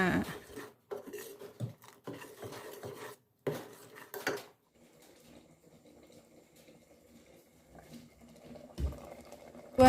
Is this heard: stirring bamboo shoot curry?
yes